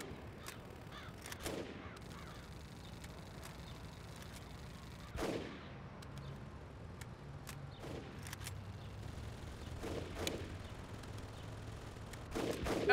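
Scattered gunshots from the combat video game Full Spectrum Warrior on Xbox, a few sharp cracks spread across a low background rumble, some near and some distant, with no talk.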